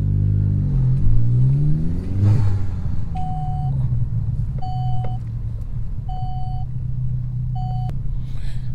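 A Chevy Cruze reverses and stops during brake bedding after a front brake replacement. A steady engine rumble runs throughout, with one brief revving swell early on and four evenly spaced reversing beeps.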